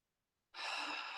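A slow, steady exhalation blown out through the mouth, close and fairly loud, beginning abruptly after a short silence and holding an even breathy hiss to the end.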